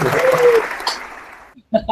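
Audience applause at an online training session breaks out briefly after a voice finishes talking, a short burst of clapping at the very end following speech.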